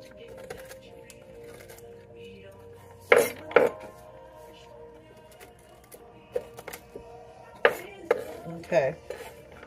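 A knife roughly chops walnuts on a board while making cookies: scattered sharp knocks in small clusters, fairly close, separated by quiet pauses.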